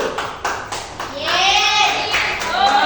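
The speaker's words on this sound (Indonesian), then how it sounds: "Aplaus untuk kelompok satu." A group of students applauds in a classroom after a group presentation, starting with a few separate claps and swelling into dense, lively clapping with children's voices over it.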